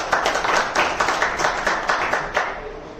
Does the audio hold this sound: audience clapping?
yes